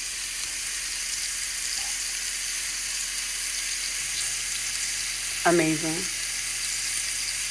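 Steak searing in a hot pan gives a steady, close sizzle that runs the whole time, while someone briefly talks over it.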